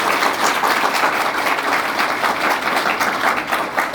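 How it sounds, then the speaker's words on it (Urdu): A church congregation at an Urdu-Hindi sermon breaks into dense, steady applause, many hands clapping close together and holding at an even, loud level throughout. "اگر آپ نے تالیاں بجانی ہیں تو پھر کھل کر بجائیں"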